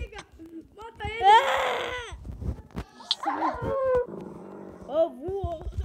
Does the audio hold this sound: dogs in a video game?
yes